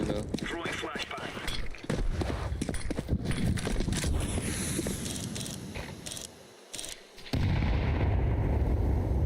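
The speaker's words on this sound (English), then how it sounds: "Throwing a grenade" A grenade blast in a shooter video game, a heavy booming burst amid continuous dense gunfire and battle noise that briefly drops away before the loud roar returns.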